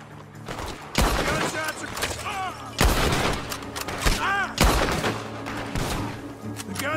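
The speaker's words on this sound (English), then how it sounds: "Gunshots are coming from that barn!" Several loud gunshots from Red Dead Redemption 2 crack out in bursts over a steady background hum, with echoing reports spaced a second or so apart.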